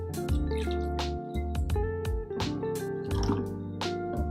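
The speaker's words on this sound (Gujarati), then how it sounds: "હવે એમાં આપણે ઠંડુ પાણી નાખવાનું છે" Cold water poured into raw mango syrup in a glass gives a close, bubbly gurgle with dripping, squishy tones that rise in pitch as the glass fills, heard on its own.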